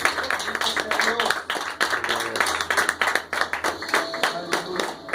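A church congregation claps for the Lord during a sermon, giving steady, dense applause for about five seconds while voices carry over it.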